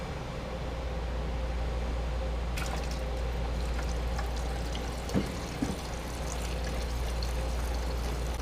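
Coolant pours steadily out of a Nissan RB25DET engine's radiator during a flush, a continuous close rush of liquid with a few faint metallic clinks and taps over it.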